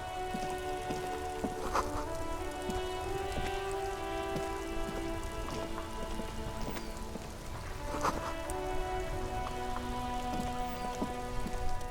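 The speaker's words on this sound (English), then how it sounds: "This rain will not let up anytime soon." Rain falling in the video game Disco Elysium: a steady, dense patter of drops on surfaces, with a faint tonal hum underneath and a few sharper drips, no speech.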